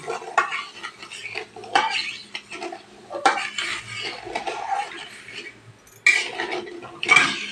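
Sugar being stirred in a pot to make syrup for balushahi, a spoon scraping and clinking against the metal in irregular bursts, close and fairly loud, with no talk.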